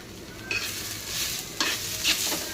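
Tomatoes, ginger and green chillies sautéing in a pan for a chicken gravy, a steady close sizzle with a few scraping stirs of the spoon and no voices.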